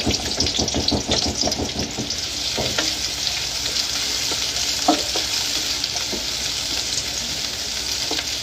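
Onions sauté in a pan with a loud, crackling sizzle, broken early by quick rhythmic scraping and stirring strokes, then settling into a dense, even frying hiss with occasional clanks of a utensil.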